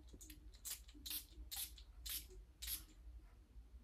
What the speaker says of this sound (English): Let me spray some more.